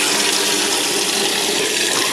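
Steady broadband rush of water pouring from a hose into a freshly welded tank, continuous and fairly loud throughout with no pauses or voices.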